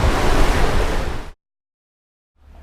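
Ocean waves wash steadily around a sailboat near Rose Island in the Bahamas, a dense roar for just over a second that cuts off abruptly into silence before faint water returns.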